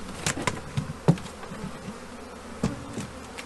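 Honeybees buzz and whine close by at a hive, with a few sharp knocks and taps scattered through the steady insect hum.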